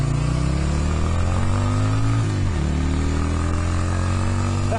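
Yamaha Virago 250 motorcycle engine pulling away on a ride, a close steady drone whose pitch climbs through the gears with a brief dip at a shift, no voices.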